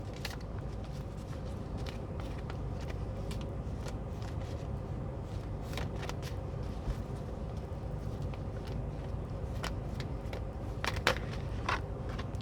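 Tarot cards are shuffled and pulled by hand, soft scattered flicks and occasional crisp snaps over a steady low background hum, quiet and close.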